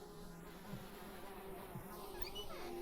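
Flies buzzing in the horror video game Hellseed, a steady droning hum with insect wings swooping closer and away in several passes, heard alone without talk.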